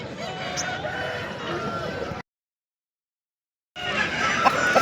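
A rooster at the Pileru hen market calls amid market noise, heard in two bursts separated by a short silence.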